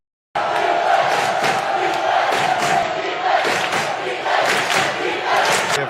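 Packed football crowd at St James's Park, Newcastle, in a Premier League match against Arsenal, roaring and chanting loudly and continuously without a break, with shouts and whistles rising through the dense wall of noise.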